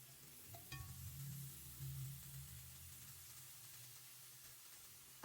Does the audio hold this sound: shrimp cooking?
yes